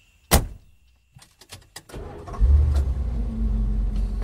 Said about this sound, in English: Dan and Alex got into the back of the young man's car